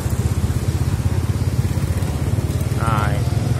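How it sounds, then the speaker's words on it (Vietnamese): A motorbike engine runs with a steady, close throbbing idle at a spring Tet flower market in Long Khanh, selling chrysanthemums and marigolds. A brief whistling tone cuts in near the end. "Giờ mình nổ máy xe lên."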